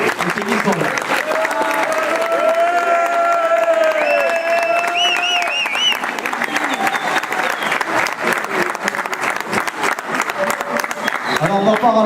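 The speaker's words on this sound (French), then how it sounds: "Je voudrais que les applaudissions très très fort." At a club's New Year greetings event, an audience claps loudly and steadily for about twelve seconds, with some cheering and whistling mixed into the dense applause.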